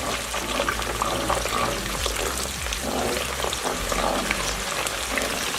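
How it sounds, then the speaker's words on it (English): Onion frying in hot coconut oil for a Ghanaian vegetable stew, stirred in the pan: a steady, dense sizzle and crackle fills the whole stretch, with a low rumbling hum beneath. "now coconut oil is hot, so let me just go ahead and add my onion. We're going to give it a nice stir."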